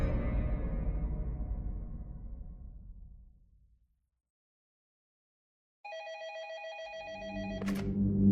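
After a low, fading rumble and a short silence, a telephone bell rings in an office, a bright, steady ring with a sharp accent near the end, followed by a low, rising swell.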